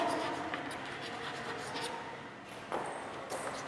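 Faint, steady scratching of a teacher writing notes on a board in a classroom, soft strokes with brief pauses, quiet and close.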